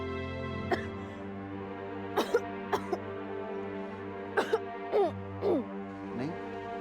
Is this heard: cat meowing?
no